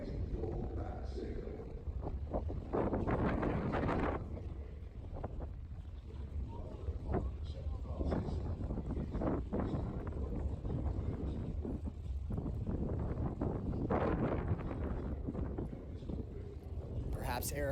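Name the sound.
wind blowing at an outdoor motorbike exhibition event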